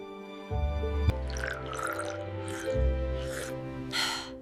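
Water is poured into a glass with a gurgling, bubbling flow and a few short splashes, close by and moderately loud for about four seconds.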